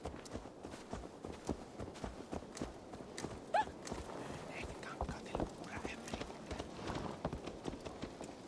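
Horse hooves clip-clop in a steady walking rhythm in Assassin's Creed Valhalla, with a brief whinny and faint game ambience mixed in.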